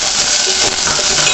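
Chopped ridge gourd hits a pan of a little hot oil for Kannada-style heerekai chutney, giving a steady, close, broadband sizzle with faint stirring clinks, with no talk.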